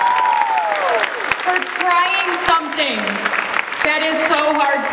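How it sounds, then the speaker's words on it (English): Audience applause at the Anime Iowa 2019 cosplay masquerade, a dense crowd wash lasting throughout, with a host's amplified voice and whistles or cheers riding over the clapping. "Give them all the round of applause for trying something that is so hard to do."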